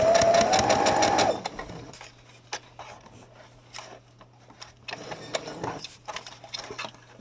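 A sewing machine stitches fabric for a mask with slits and elastic tie strings. A loud, steady motor whir up close gives way to slower, quieter stitching with soft clicks and fabric handling.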